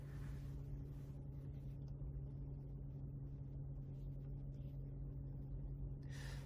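Steady low engine and road rumble inside a car after ceramic underbody coating, a constant muffled drone with a faint hum, no voices, heard from the cabin while driving.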